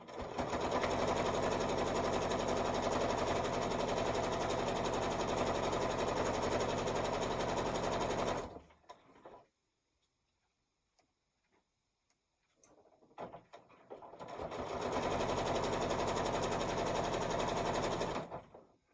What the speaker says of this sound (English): I use the edge of my presser foot as my guide. And sew across the top edge.